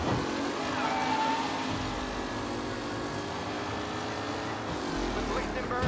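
A race car speeding around a track in the video game Mafia Definitive Edition, a steady engine roar at moderate level holding throughout, with a voice speaking over it.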